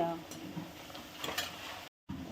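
Pieces of coriander vadi fry in hot oil, giving a soft, steady sizzle with faint crackles and a few stirring scrapes, close by, cut by a brief silent gap near the end.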